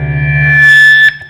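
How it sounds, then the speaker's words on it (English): Electric guitar driven through a distortion fuzz pedal rings out as one sustained, buzzing chord for about a second, loud and saturated, then cuts off abruptly with a brief decaying tail. "it is the most amazing distortion fuzz pedal"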